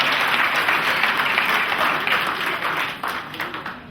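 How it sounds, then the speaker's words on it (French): Wedding guests at a civil marriage ceremony applauding, dense sustained clapping from a room full of people, loud and close, slowly tapering off toward the end. "Applaudissez pour lui aussi."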